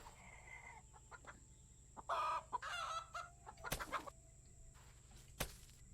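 Chickens cluck in the video game Garden Paws while feed is scattered on the ground, giving several short bursts of clucking and squawks close by, over a steady low background hum with quiet gaps between calls.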